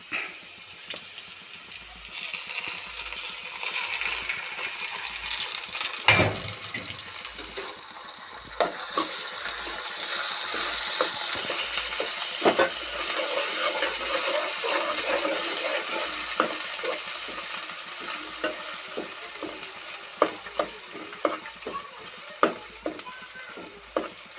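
Fish curry cooking in a pan, with a steady sizzle under frequent stirring and scraping clicks; the frying grows louder and brighter in the middle and stays close throughout.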